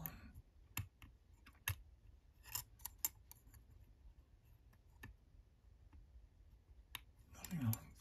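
A Lishi pick works the pins of a Yale lock, producing faint, sharp little clicks and ticks at irregular intervals against a quiet background, close to the microphone.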